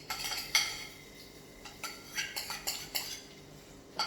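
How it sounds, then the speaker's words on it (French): A spoon spreads a lentil mixture in a baking dish, scraping and clinking softly against the dish in a series of close, irregular taps and strokes. "Avec la cuillère, je vais bien l'étaler comme ceci"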